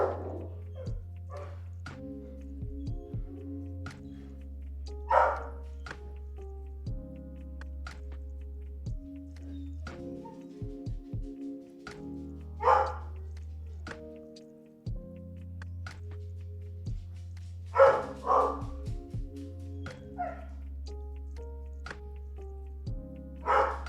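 A dog barking angrily at a package delivery at the front door: scattered sharp barks and yips spread out at intervals, some in quick clusters, over a constant low electronic hum.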